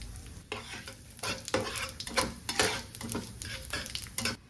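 Cumin, bay leaf and dried chilli tempering in hot oil in a kadai, a close steady sizzle broken by repeated scraping stirs of a utensil against the pan, with no talking.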